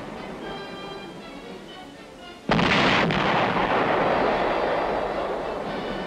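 A gun crew fires a 105mm howitzer in battle: after a rumbling lead-in, one sudden, loud blast booms out and its heavy roar rolls on and slowly fades.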